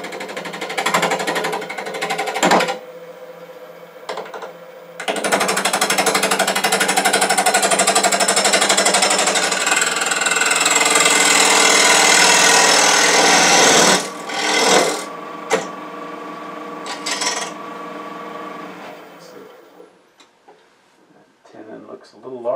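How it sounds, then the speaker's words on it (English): A wood lathe turns a tenon on a vase blank with a 3/8 inch bowl gouge: a loud, steady, rough cutting roar holds for about nine seconds, with quieter motor hum and brief gaps before and after. "now I'm going to turn a tenon on one end in grain running this way, using a 3/8 inch"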